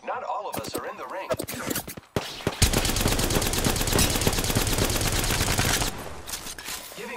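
Rapid automatic gunfire rattles in Apex Legends, a few scattered shots first, then a long dense sustained burst that stops abruptly, with game voice callouts mixed in around it.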